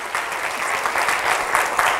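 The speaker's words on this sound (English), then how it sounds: "Yeah, you can applaud that." Steady applause from a church congregation during a sermon, a dense even wash of many hands clapping throughout, fairly loud with no voice over it.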